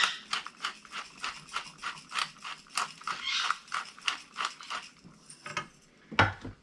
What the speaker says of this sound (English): I'm going to put some pepper on here